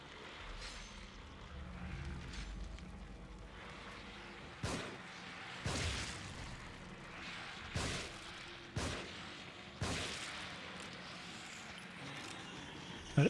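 Gunfire in The Evil Within: about six sharp shots spaced roughly a second or two apart, each a loud close crack over a low ambient game background, with no talk.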